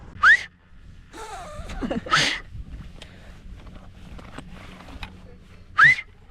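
Short rising whistles from a person on a Dolomites ski tour, three brief bursts spaced apart with quiet outdoor background between them, no talk.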